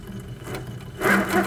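An HQ Sweet Sixteen sewing machine set to TruStitch mode hums steadily as it stitches a half circle, and its whirring motor grows louder and busier partway through.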